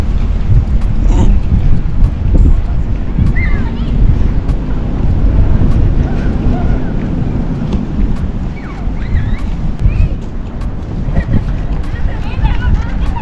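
A strong, cold wind buffets the microphone near Admiral Bridge in Finland, producing a loud low rumble with gusty surges, and voices are faintly present beneath it.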